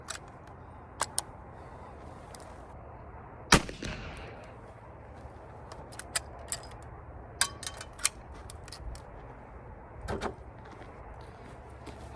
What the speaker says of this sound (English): So I'm going to shoot this one.